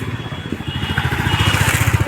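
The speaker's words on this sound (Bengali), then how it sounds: "বাবু এই সাইডে বাইক এসছে" A motorcycle passes close by with a rapid pulsing engine putter that grows steadily louder over about two seconds.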